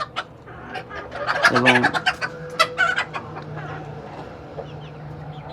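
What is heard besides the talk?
native chickens clucking on a small farm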